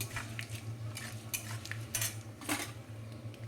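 A utensil scrapes and clinks against a pan while stirring a tempering with dried red chillies for gongura pickle, soft, close scraping strokes over a faint low hum, no talk.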